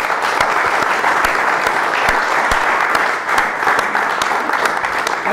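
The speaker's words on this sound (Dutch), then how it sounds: "En we vragen jullie natuurlijk nog eventjes een applaus voor..." A crowd gives loud, continuous applause, a thick wash of many hands clapping steadily throughout with a few sharper individual claps standing out and no talking.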